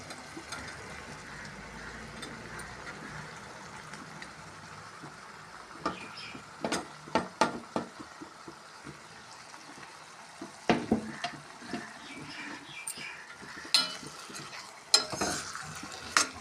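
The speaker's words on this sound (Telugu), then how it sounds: "ఇది కూడా సిమ్లో పెట్టి బాగా వేయించుకోవాలి" Sliced okra frying with softened tomatoes in a pan on low heat, giving a quiet, steady sizzle broken by repeated sharp scrapes and knocks of a spoon stirring, denser toward the end.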